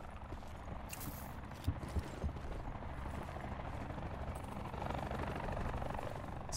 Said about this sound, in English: Stupid helicopter.